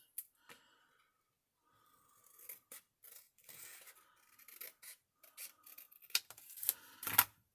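Quiet, intermittent snips and rustles of scissors cutting paper, close by, in short irregular bursts with brief silences between.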